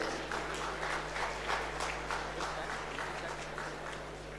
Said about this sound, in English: Ladies and gentlemen, please give them a huge round of applause.